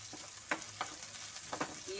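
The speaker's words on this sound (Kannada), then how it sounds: "ಕರಿಬೇವು ನೋಡಿ, ಚೆನ್ನಾಗಿ ಫ್ರೈ ಮಾಡ್ಕೊಳ್ಳೋಣ." Curry leaves fry in well-heated oil for a mung bean stir-fry, giving a soft continuous sizzle with sharp crackles and spits at intervals, close and fairly quiet.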